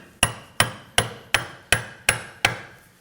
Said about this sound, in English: I'm going to line it up and I'm going to tap it with a hammer just to help me guide it in.